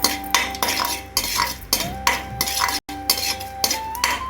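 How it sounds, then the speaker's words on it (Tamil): Cashews roasting in hot oil for a sambar rice tempering, heard mostly as close metal spoon scrapes and clinks against the pan in repeated strokes, with only a faint sizzle beneath. "இப்போ முந்திரி சேர்க்குறேன் முந்திரி வறுபடட்டும்"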